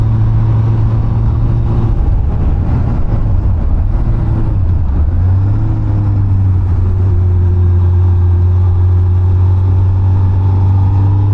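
A 2007 Honda Hornet 600 four-cylinder motorcycle engine runs loud and close, its steady drone dipping and rising as revs change, then settling into a sustained even hum while riding.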